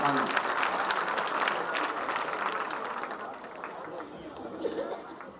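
An audience at a Tamil comedy debate applauds a speaker as he is introduced, a dense burst of clapping mixed with chatter and a little laughter that slowly thins out over several seconds.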